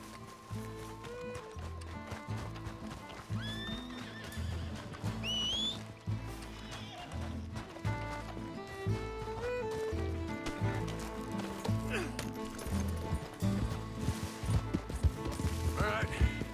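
Horse galloping with rhythmic hoofbeats in Red Dead Redemption, moderately loud and mixed with game music and ambient effects, with a brief neigh.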